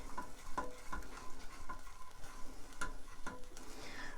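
A honey and ketchup sauce is stirred in a pan, with a faint bubbling sizzle and several light spoon clinks and taps against the pan at irregular intervals.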